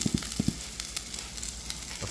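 Ginger, garlic salt and curry leaves sizzle briefly in a hot pan for a mixed vegetable curry, a close, even frying hiss opening with a few quick soft knocks.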